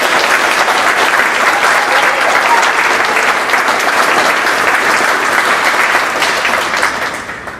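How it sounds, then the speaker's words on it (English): Audience at a high school JROTC awards ceremony gives cadets a loud, sustained round of clapping that holds steady for several seconds, then tapers off at the end. "give them a round of applause"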